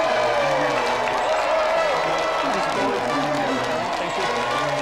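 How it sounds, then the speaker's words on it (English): Studio audience applauding and cheering for a special guest on a games TV show, a loud steady wash of clapping with whoops that fills the whole stretch, with voices mixed in. "let's another round of applause for our final special guest of the series, Janick Gers"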